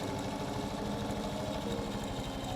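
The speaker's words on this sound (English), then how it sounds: "I top stitched over the cup seam with a red zigzag stitch" A sewing machine top stitching a red zigzag stitch over a cup seam on a dress form cover, a steady, close, continuous mechanical whir with a fast, even rhythm.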